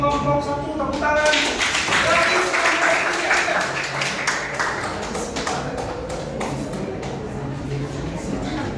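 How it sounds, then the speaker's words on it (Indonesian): A classroom of students claps for a student group, the clapping bursting in after a moment of talking, then thinning into scattered claps and taps as voices continue. "tepuk tangan."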